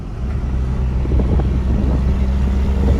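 Inside a 2002 Cummins Ram diesel truck with a transmission problem and windows down, a loud low engine drone and road rumble continue steadily as it shifts into sixth gear, with no clear break between gears.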